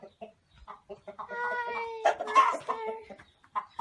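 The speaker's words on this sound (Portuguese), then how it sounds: "Um galo ali, ó." A rooster on a farm clucks and calls repeatedly nearby, with a drawn-out harmonic crow-like cry in the middle, fairly loud and alone without talk.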